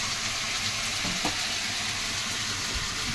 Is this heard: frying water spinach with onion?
yes